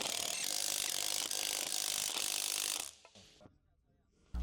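Large impact wrench with a short extension and 18mm deep socket tightening wheel lug nuts on a 2013 Jeep Wrangler JK, a loud sustained rattling hammer for nearly three seconds, then a few faint clicks.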